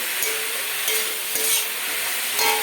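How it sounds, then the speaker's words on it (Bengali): Turmeric, cumin, coriander and chili powder are stirred in a pan of vegetables, a soft continuous sizzle with scraping strokes and a few brief knocks from the spoon. "দেবো পরিমাণ মতন হলুদ, আর দেবো গুঁড়ো মশলা, জিরে গুঁড়ো, ধনের গুঁড়ো, লঙ্কার গুঁড়ো দিয়ে সব একসঙ্গে আমি মিশিয়ে দেবো"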